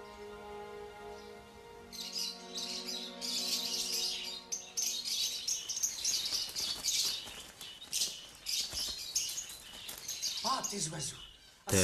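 Busy chirping and tweeting from a group of birds, dense overlapping calls with flutters that rise after a low hum and persist for several seconds in an indoor setting.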